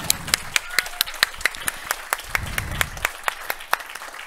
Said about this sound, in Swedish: En stor applåd för Runar!